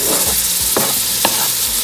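Chopped tomatoes hit a hot frying pan while cooking a vegetarian biryani, bursting into a loud close sizzle with a few sharp stirring scrapes, no voices.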